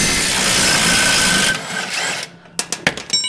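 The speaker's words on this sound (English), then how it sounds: "We're going to get these two bolts out real quick." A power tool whirs steadily as it backs out two bolts on a Jeep Gladiator suspension, then stops, followed by several sharp metallic clicks and clanks close by.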